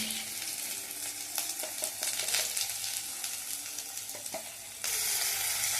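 Potatoes and onions frying in a pan with salt and turmeric, a steady close sizzle with scattered clicks and scrapes of stirring, swelling louder near the end, no speech.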